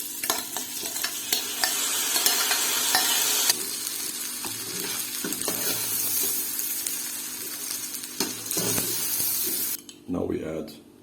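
Lentils sizzle and get stirred in a frying pan for Egyptian kushary, a steady fry hiss with scraping utensil strokes and clinks, fading at the end.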